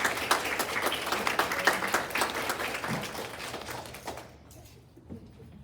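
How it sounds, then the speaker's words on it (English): Audience applause at an organization's gathering, a burst of many hands clapping that fades out over a few seconds into quiet. "Would you join me in giving a round of applause for their commitment?"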